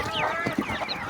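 Domestic laying hens cluck in a brief, close burst of short, uneven calls over a low background hum.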